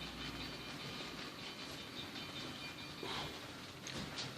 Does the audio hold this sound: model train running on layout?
yes